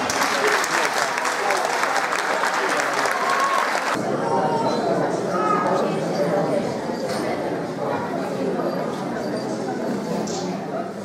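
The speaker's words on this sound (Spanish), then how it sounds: "Un forte aplauso." A school end-of-year festival audience claps loudly before a children's play begins. The applause is dense and sustained throughout, changing in tone partway through, with a crowd murmur and some voices mixed in.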